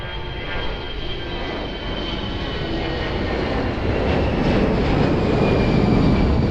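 Airplane at Lisbon Airport, a steady, loud roar of jet engines that builds slowly in strength across the whole stretch, with no talk over it.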